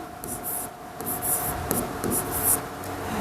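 Chalk or marker scratching out letters on a board during a chemistry lecture, a series of short faint strokes with light rubbing against a low room hum.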